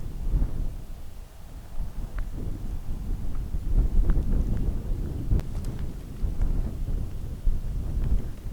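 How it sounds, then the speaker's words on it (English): Strong wind in the Joshua Tree desert, gusting across the microphone in heavy low buffeting rumbles that swell and fade throughout, with no talking. "it's super windy out here"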